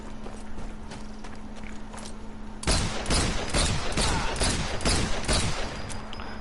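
An American-made .45 ACP pistol fires in Sniper Elite 4, a rapid string of sharp, close shots after a quieter lead-in, loud and evenly spaced.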